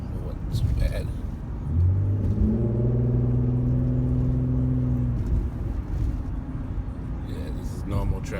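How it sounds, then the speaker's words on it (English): Road traffic heard from inside the cab of a 2013 Ford Edge: a passing vehicle's humming engine drone rises for a few seconds over steady low road rumble, then settles back. "Yeah, this is normal traffic."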